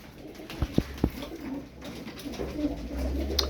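A pigeon coos softly nearby, a few low throaty coos over quiet background noise.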